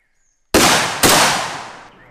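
Two loud, sharp gunshots fired on a military shooting range during Exercise Cartwheel 2019, about half a second apart, each with a long echoing decay across open ground.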